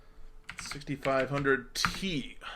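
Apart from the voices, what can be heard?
computer keyboard clacking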